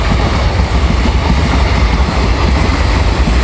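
A loud, close train rumbles past continuously, its wheels producing a steady rhythmic clatter over a deep roar.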